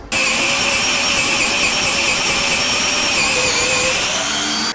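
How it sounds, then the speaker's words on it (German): A loud electric drill whines steadily for several seconds while boring into old wooden beams, a constant high motor tone with a grinding edge, then cuts off abruptly. "das ist auf jeden Fall mit meinem Bohrer, würde ich sagen"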